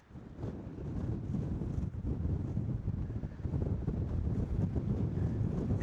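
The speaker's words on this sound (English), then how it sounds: "And it is windy." Strong wind blowing at Mojave Point on the Grand Canyon rim, a steady low roar buffeting the microphone throughout with no speech.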